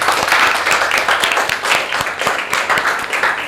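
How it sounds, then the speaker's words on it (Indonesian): A classroom of students claps together, a loud, dense patter of many hands mixed with a few sharper individual claps, continuing without pause. "Semuanya bisa angkat tangan dan tepuk tangan sama-sama"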